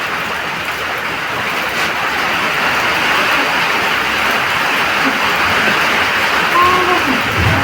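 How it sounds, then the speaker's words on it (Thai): Steady rain falls without a break, a dense, even hiss and patter that fills the background for the whole stretch, with no clear voices over it. "ฝนตกเนาะเหมาะกับบรรยากาศเล่นมาก"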